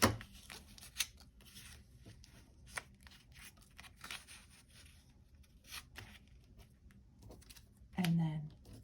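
Scissors cutting down a paper piece for a card border from a Cosmic Inspirations card kit, quiet snipping and rustling scrapes with a few sharper clicks and a louder burst near the end.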